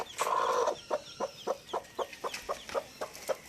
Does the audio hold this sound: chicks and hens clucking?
yes